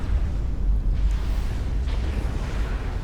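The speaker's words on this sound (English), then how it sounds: "As the explosion from the fire beaters clears up" Fire beater explosions in the strategy game Supreme Commander: Forged Alliance, heard as a loud, sustained low rumble with faint crackling on top and no clear separate blasts.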